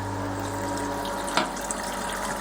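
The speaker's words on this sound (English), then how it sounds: "Now this water is coming out of my HLT so that I could pass it through my filters." Water running steadily from a home-brew hot liquor tank and passing through filters, a continuous moderate rushing with a brief splash-like burst midway, no talking.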